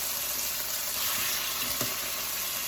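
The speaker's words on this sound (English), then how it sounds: "Now I'm gonna drop them off into a skillet." Jerk chicken wings, already tenderised in a pressure cooker, sizzle in a hot skillet with a steady, close, broadband hiss and a few faint clinks.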